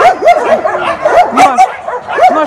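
A small white dog barks and yips in quick, repeated bursts, close and loud, with a few whimpering notes between the barks.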